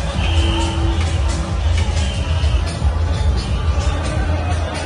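Crowd cheering along the Kumar river at a village boat race in Muksudpur, a loud continuous babble of many voices and cheers close by, with a narrator speaking over it.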